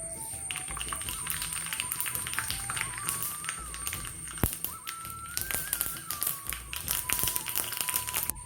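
Mustard seeds splutter and pop in hot sesame oil in a pan, a continuous crackling patter of small bursts heard alone at close range.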